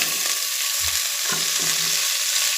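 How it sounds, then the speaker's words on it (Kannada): Mixed vegetables hit softened onions in a hot pan for sambar, giving a loud, dense, continuous sizzle with brief scraping stirs up close. "ಇವಾಗ ಈರುಳ್ಳಿ ಎಲ್ಲ ಚೆನ್ನಾಗಿ ಮೆತ್ತಗಾಗಿದೆ ಇವಾಗ ಇದಕ್ಕೆ ನಾನು ತರಕಾರಿನ ಹಾಕೊಳ್ತಾ ಇದ್ದೀನಿ"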